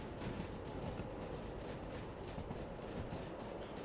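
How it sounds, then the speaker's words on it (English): Train running on track in the Derail Valley video game, a continuous rumble of wheels on rails with a faint rhythmic clatter, steady and fairly close, with no one speaking. "Let the train just run off into the distance."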